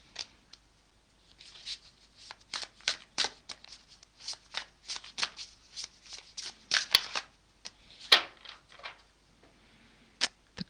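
Tarot cards being shuffled in a quick run of crisp riffling bursts and flicks, close and fairly quiet, with short pauses between handfuls and no talk.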